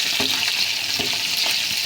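Onions fry in a pan, giving a dense, loud sizzle with a few soft stirring knocks in a brief close-up burst and no voices.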